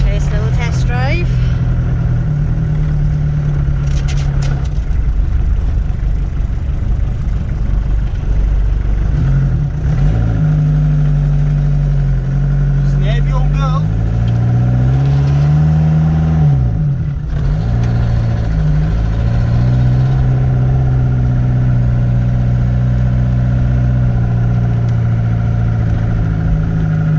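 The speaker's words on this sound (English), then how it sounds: "Clutch is high. First little test drive." Old Ford Transit mk2 van engine runs throughout a first short test drive, loud and close, its note rising and falling as it pulls away and shifts, with someone speaking over it.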